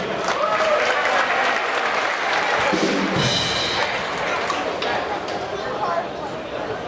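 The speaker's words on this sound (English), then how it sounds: "Another round of applause for our pep band and the seniors." Gym crowd applause at a high school boys basketball senior night, loud sustained clapping with some cheering and chatter throughout, a few thuds mixed in, holding strong to the end.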